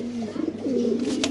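A racing pigeon coos once in a short, soft, low warble close by.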